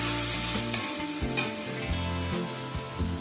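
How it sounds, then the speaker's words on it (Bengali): Spice paste for jackfruit malai curry stir-fried in a pan, a steady close sizzle with repeated scraping strokes of a spatula at an even rhythm, no voices. "এবার মশলাটাকে খুব ভালোভাবে কষিয়ে নিতে হবে।"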